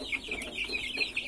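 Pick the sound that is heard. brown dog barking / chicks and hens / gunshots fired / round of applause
chicks and hens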